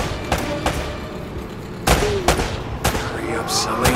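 Gunfire in the video game Uncharted: Drake's Fortune, with sharp shots and short bursts spread across the scene over a dense game soundtrack and background effects.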